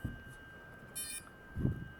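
A short electronic beep from a Wingsland S6 GPS camera drone sounds over a constant high tone and fan motor hum, followed by a low thump near the end.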